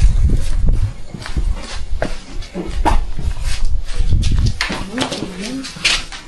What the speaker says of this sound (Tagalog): Hi, kakaibang aso to. Walang balahibo.